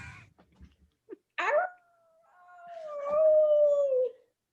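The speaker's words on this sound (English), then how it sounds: "So suddenly the sound of a petrifying wolf comes from outside." A wolf howls from outside, a long rising then slowly falling tone that swells loud and carries on alone after a few soft scuffs and a short sharp yip.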